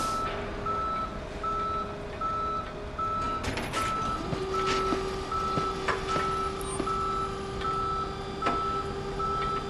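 A tow truck reverses in the Police Simulator video game at night, sounding a steady, evenly spaced beeping over a low engine rumble, with a few sharp clanks and ticks scattered through.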